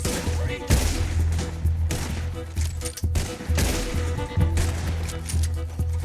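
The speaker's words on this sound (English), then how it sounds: "Look out, taking fire." Bursts of gunfire crack and echo in a firefight in the video game Red Dead Redemption 2, with several loud shots spread unevenly across the stretch and a voice speaking between them.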